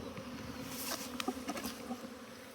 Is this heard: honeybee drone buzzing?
yes